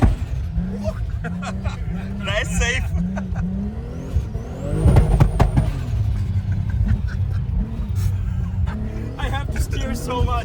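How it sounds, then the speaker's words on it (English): A 1300-horsepower Nissan Patrol drifts across a snowy ski slope, its engine droning and surging loudly with a rising whine midway, while a person talks over it throughout. "this might be the most stupid vehicle to drift"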